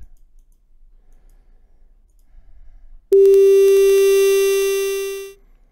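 After a few seconds of quiet background noise, a sharp click launches a bright, buzzy synth triangle wave tone with added spikes that sustains for about two seconds and then fades away.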